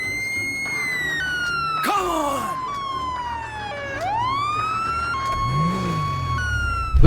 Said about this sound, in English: if you shoot the siren on cop cars, they start making this weird glitchy sound